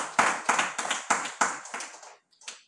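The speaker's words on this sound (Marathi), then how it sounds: "त्यांचाही आपण टाळ्या वाजवून स्वागत करूया" Slow, distinct claps ring out one by one at a religious gathering's welcome, about eight sharp claps in a loose rhythm, then a pause and one last clap, close and clear, with no one talking.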